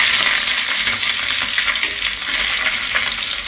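Fish fries in an oil-filled pan, one side already crisp, with a dense, continuous crackle and spatter that stays loud and steady throughout.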